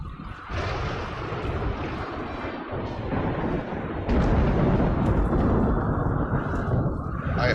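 Deep rumbling thunder rolls through a dry thunderstorm in RimWorld, a sustained low roar that swells louder midway and stays heavy to the end, with no voices.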